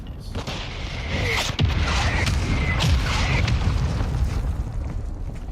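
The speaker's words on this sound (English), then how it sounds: "It's a hostile mortar strike" Mortar strike in Modern Warfare II multiplayer, several heavy booming explosions landing in quick succession, loud and close, with rumbling debris between blasts.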